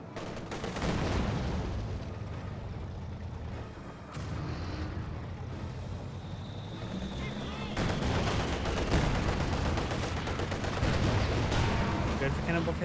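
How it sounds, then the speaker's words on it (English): Mortar rounds hitting in the Company of Heroes 2 video game: a continuous loud battle din of booming impacts and gunfire crackle, thickening toward the end, with no clear gaps between blasts. "Mortar hits."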